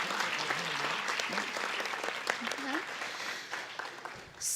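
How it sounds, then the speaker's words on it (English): A school board meeting audience gives a round of applause for calendar art winners and their art teachers, steady dense clapping throughout with some voices mixed in. "Please give them and our art teachers one more round of applause."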